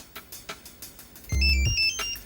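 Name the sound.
mobile phone ringtone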